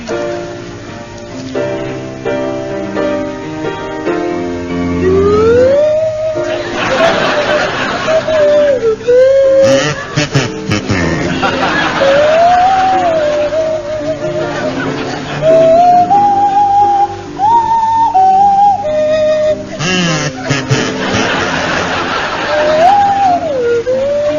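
A swanee whistle slides up and down in wobbly glides over a buzzing kazoo and backing music, loud and continuous.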